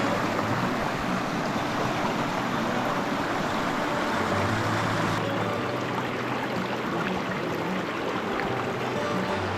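Shallow mountain creek of Kootenai Creek flowing, a steady broad rushing wash of water heard close by and unchanging throughout.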